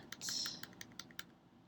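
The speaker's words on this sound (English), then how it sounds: "as I begin to press the keys" A computer keyboard is tapped at a close distance, with about half a dozen distinct keypresses in an uneven rhythm over a faint background hiss.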